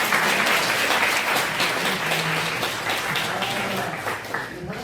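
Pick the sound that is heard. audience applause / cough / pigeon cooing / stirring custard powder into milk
audience applause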